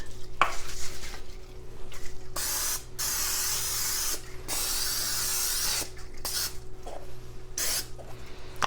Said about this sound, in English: Let me spray both of them.